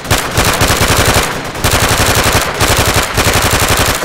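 Rapid automatic gunfire in the Left 4 Dead 2 video game, loud sustained bursts with brief pauses between volleys, close and dominant, no talking.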